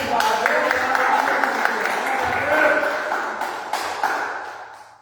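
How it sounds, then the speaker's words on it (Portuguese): Church congregation applauding during a Portuguese-language communion service, dense sustained clapping that fills the room and slowly fades toward the end, with voices mixed in underneath. "Aplauda o Senhor."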